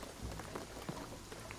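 Steady rain falling in the video game Shadow of the Tomb Raider, a soft, continuous patter of drops on surfaces, fairly quiet and unbroken with no talking.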